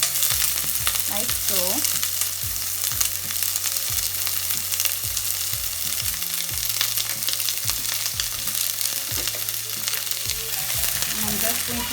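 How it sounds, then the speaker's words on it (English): Onion sizzles steadily in a hot pot with garlic, scallion and pepper for a vegan dish, a continuous dense frying hiss with occasional stirring scrapes, while a voice speaks briefly over it. "I'm going to add the onion inside the pot"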